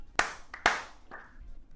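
Two sharp, loud hand claps close by, spaced about half a second apart, with fainter tapping between them and a short ringing tail afterward in a lively streaming room.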